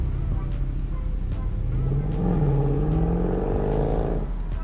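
Audi R8 with a V10 engine rolling up at a cars and coffee supercar meet, a low engine drone that swells and rises in pitch midway before easing off, with ambient crowd noise around.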